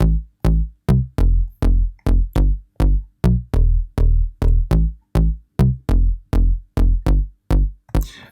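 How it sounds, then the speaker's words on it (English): Analog saw bass synth patch in Ableton Live playing a pop-style pattern, about sixteen loud, punchy notes in a steady bouncing rhythm, each with a short decay and a gap, with no voices. "it's an analog saw bass"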